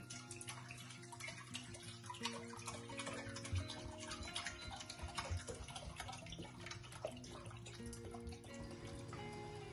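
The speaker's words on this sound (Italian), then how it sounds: "Mettiamo l'acqua in una pentola e la portiamo a ebollizione salata." Water runs into a cooking pot for an escarole and chickpea soup, a steady filling rush with faint drips that holds for around ten seconds, quiet and continuous, with no voices.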